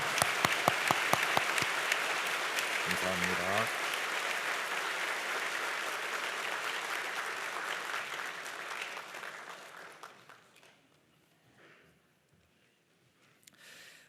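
A church congregation applauds warmly during a worship service, the loud sustained clapping fading out after about ten seconds into near quiet, with a brief spoken word of thanks.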